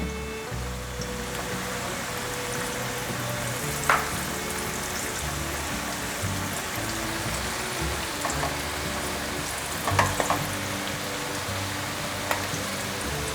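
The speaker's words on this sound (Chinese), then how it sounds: "用这种半煎炸的方式把它煎成焦香。" Tempeh slices shallow-frying in plenty of oil in a pan give a steady, close crackling sizzle throughout, with a few louder pops and utensil taps.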